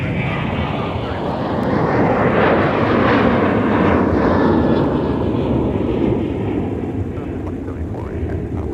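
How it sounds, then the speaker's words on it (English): A Prime Air Boeing 767-300 converted freighter, operated by Air Transport International, arriving at Minneapolis–St. Paul airport in from Cincinnati; a loud, steady jet engine roar that swells and holds, with a faint voice over it. "So that is Air Transport International with a Prime Air 767 300 Boeing converted freighter"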